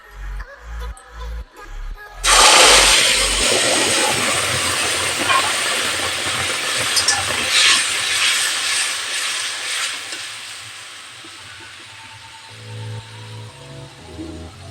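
A spice paste of sour yogurt, tomato paste, onion paste and ginger paste hits hot oil with a loud sudden burst of sizzling hiss that slowly settles into a steady, softer frying crackle, with a few kitchen knocks at the start and end.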